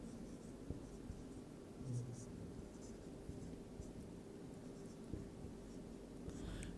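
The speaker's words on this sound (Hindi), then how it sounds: "देखो मैं यहां पे लिख रहा हूं" Chalk or marker scratches in short strokes on a board during a Hindi-language computer science lesson, quiet and intermittent, with a teacher's voice speaking faintly alongside.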